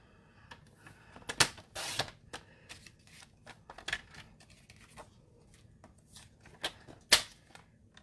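Paper trimmer slicing designer series paper, with a series of sharp clicks and quick swipes at uneven intervals, close and fairly quiet.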